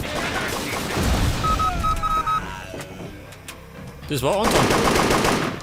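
Gunfire in the video game Übersoldier: bursts of rapid machine-gun shots and sharp gunshot cracks come in clusters over a few seconds, with game sound effects and someone talking briefly between them.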